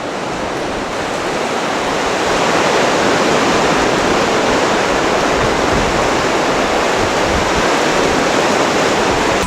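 Ocean waves rushing beneath the boardwalk pillars in Atlantic City, a loud, continuous broadband roar of surf swelling in the first seconds and then holding steady, with no voices.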